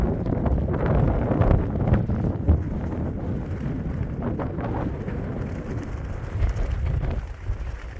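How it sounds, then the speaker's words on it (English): Strong wind gusts through a mountain valley in the Sierra Nevada, buffeting the microphone with a loud, continuous rumbling roar that swells and eases throughout. "it's really windy, so I'm not going to talk while I pan because you won't be able to hear me anyway"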